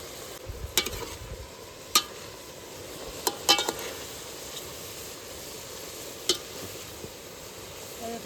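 A utensil stirs sodhiya vegetable curry in a pan after chili goes in, with a low steady sizzle and a few sharp metallic clinks and scrapes spaced through the stretch, close and fairly quiet, no talking.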